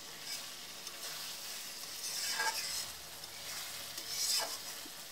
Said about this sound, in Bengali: তার জন্য আমি একটু কষাচ্ছি।